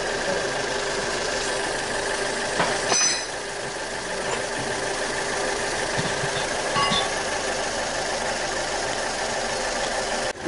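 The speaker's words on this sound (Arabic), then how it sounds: "نشوفوا الموتور ما شاء الله كل ما يسخن كل ما يزيد يرتاح اكثر" A Fiat Punto engine idles as it warms up, a steady close mechanical hum with a light ticking texture and a couple of faint clanks, running continuously without change in pace.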